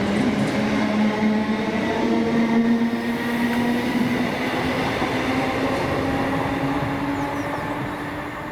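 Two Class 37 diesel locomotives, 37667 and 37521, pass with a train on a Scottish line, a loud sustained engine drone and rumbling wheels holding steady nearby before slowly easing away.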